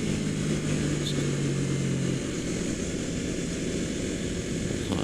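A Yamaha MT-03 motorcycle is ridden through corners, giving a loud, steady engine drone mixed with rushing wind. An engine tone drops away about two seconds in, and the roar carries on with no talk.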